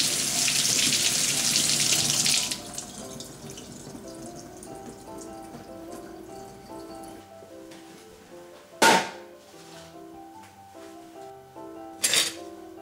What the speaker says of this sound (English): be sure to run water over the bottom of the can